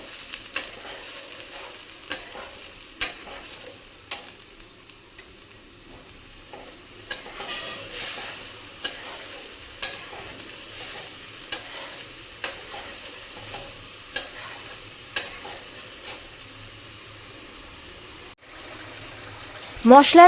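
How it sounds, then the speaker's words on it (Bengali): Spice paste frying in a pan for Bengali katla fish kalia, a steady low sizzle with regular sharp stirring scrapes roughly every second, close and fairly quiet, ending in a louder clatter. "পেস্টার কাঁচা গন্ধ যাওয়া পর্যন্ত ভেজে নেব মশলার"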